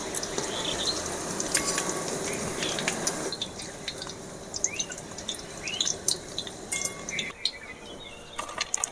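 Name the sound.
jackfruit pakoras frying in oil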